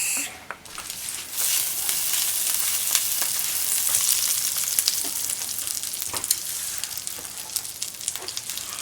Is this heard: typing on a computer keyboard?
no